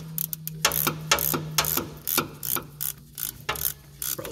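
Tightening the V-band clamp of a turbo kit on a V6 Mustang gives a rapid series of close ratchet clicks, quick bursts of ticking with short pauses between them, and no talk.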